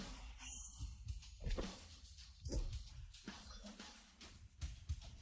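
A dog snarls, yelps and whimpers in a chase and fight down a narrow alley, with scuffling thuds and impacts mixed in, close and busy for several seconds.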